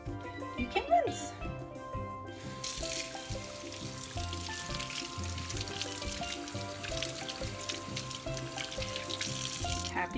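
A bathroom tap runs steadily as hands are rinsed under it after soapy handwashing; the continuous splashing water starts a few seconds in and carries on to the end, with music playing underneath.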